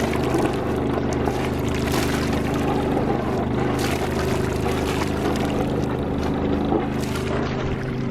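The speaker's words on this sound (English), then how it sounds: "That's the water pump." A boat engine drones steadily with its water pump running, water gushing and splashing over it, a continuous loud churning rumble with no pauses.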